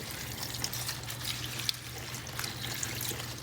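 Basil rinsed under running tap water in a kitchen, a steady close rush of flowing water with a low hum underneath, no talk.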